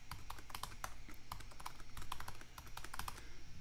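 A password being typed on a computer keyboard: quick, close, clicky keystrokes in an irregular run over a low steady hum, with no voices.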